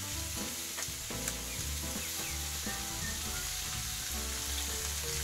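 Cucumbers sizzle and fry in oil in a kazan over a campfire while funchoza is cooked, a loud continuous crackling hiss with occasional stirring, close up and without talk.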